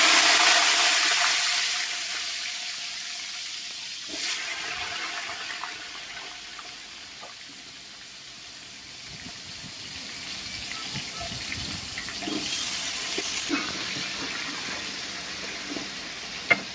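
Cut potatoes tipped into hot oil already seasoned with ajwain, cinnamon and asafoetida, giving a bright hissing sizzle that swells at the start, fades, then rises again near the end, with no talk.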